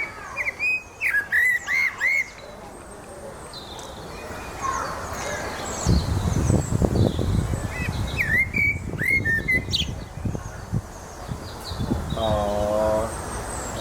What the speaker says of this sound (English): Absolutely adorable bird.